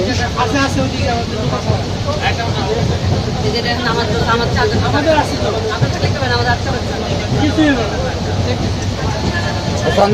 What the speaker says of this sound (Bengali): ট্রেনের যাত্রা